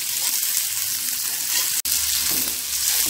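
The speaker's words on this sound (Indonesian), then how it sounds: "masukkan cabai merah dan cabai rawitnya. Ini ditumis-tumis lagi." Red chillies and bird's eye chillies stir-fry in a pan for a village-style cassava leaf dish, giving a steady close sizzle with scraping stirs and one brief sharp click partway through.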